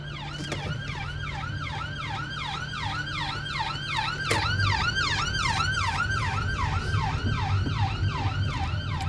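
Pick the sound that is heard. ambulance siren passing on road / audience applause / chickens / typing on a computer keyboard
ambulance siren passing on road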